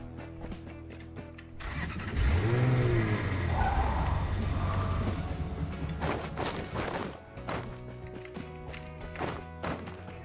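A car in the video game Rules of Survival starts up and revs loudly, its engine pitch swooping up and down for a few seconds, then fades into softer thuds and clicks with no talking.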